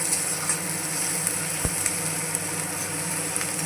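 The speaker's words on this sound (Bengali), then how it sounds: "পেঁয়াজে একটু হালকা করে লবণ দিয়ে দিচ্ছি। লবণ দিয়ে আবার ভাজা ভাজা করতে থাকবো।" Chopped onions with a light sprinkle of salt fry in a pan for coriander chicken, giving a steady, soft sizzle with faint stirring scrapes and no voices.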